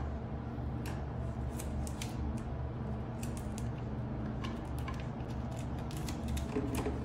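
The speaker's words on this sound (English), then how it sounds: "Take a piece of duct tape. Slice it in half." Scissors snip through duct tape in quick, crisp cuts, close by, over a low steady background hum.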